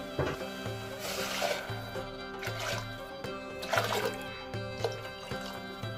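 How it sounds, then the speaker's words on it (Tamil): Water is poured into a cooking pot for rava khichdi, a soft, close trickle and splash that runs steadily, with a few clinks of the vessel, quiet and without talk. "இதுக்கு 4 கப்ஸ் வாட்டர் ஆட் பண்ணிக்கலாம்."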